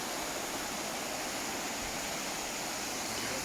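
A small waterfall in a forest park in Western Australia, south of Perth, gives a steady, even rush of falling water that fills the whole clip, with no voices over it.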